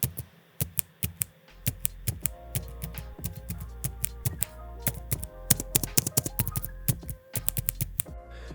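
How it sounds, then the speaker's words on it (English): Keys are pressed on the backlit keyboard of a Tulpar T6 laptop, some of which give a squishy, smacking sound. Close, crisp tapping comes in irregular bursts, with quiet gaps between keystrokes. "At least 3 of the keys made kind of a squishy smacking sound when pressed, as if they were sticking to something underneath."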